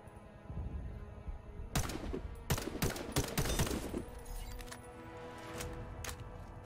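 Several sharp gunshots fired through a scope at targets in the shooter game Warface, spaced irregularly over a few seconds against a low rumbling background, fairly loud and close.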